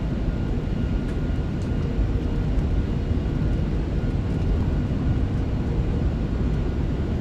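Inside the iniBuilds A340-300 airliner on approach in Microsoft Flight Simulator 2024, the engines give a continuous, even roar with a dense rumbling hiss that stays steady for about seven seconds, with no talking.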